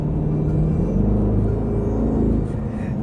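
A 2024 Aston Martin Vantage exhaust in its normal, quieter mode, a steady deep rumble with layered low engine harmonics, held close and continuous for about three seconds before easing slightly.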